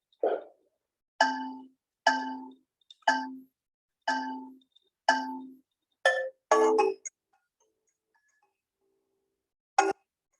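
A phone ringing with a notification tone, a series of six evenly spaced bright chime-like rings followed by a short burst and one final ring after a pause, clear and close.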